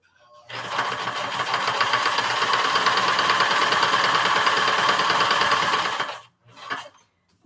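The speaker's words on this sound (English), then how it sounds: "I'm going to go ahead and sew this one" A sewing machine stitches scrappy fabric squares in a rapid, steady mechanical chatter lasting about six seconds, stopping abruptly, then a brief second burst follows; close and alone with no talking.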